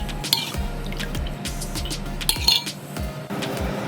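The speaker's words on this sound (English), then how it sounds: "So I'll get the wok ready now with the oil." Olive oil poured into a wok while Trini-style chicken and broccoli is being cooked, with light drips, a trickle of liquid and a few metallic clinks from the pan and utensils, close and fairly quiet, with no talking.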